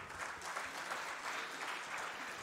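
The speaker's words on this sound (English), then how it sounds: "So can you clap louder?" Audience clapping at a welcome speech, a dense, steady wash of many hands applauding together for the full stretch, fairly distant and even in level, with no voices over it.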